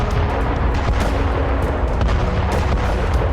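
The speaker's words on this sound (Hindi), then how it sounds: "कुछ इलाकों में जबरदस्त धमाके हुए।" Explosions from Turkish F-16 airstrikes, loud continuous rumbling booms with irregular sharper blasts layered over each other, dense and heavy throughout without any voices.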